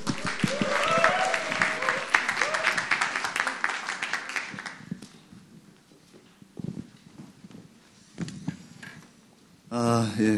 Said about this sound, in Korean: 우리 박수와 함께 들어보도록 하겠습니다